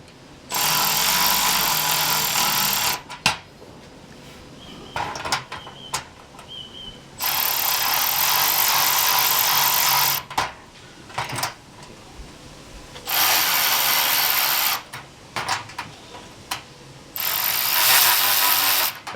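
A Milwaukee power ratchet tightens bolts while a cargo bay storage platform goes into a Suzuki Jimny JB74, whirring loudly in several sustained runs of a few seconds each, separated by short pauses with light clicks and handling noises.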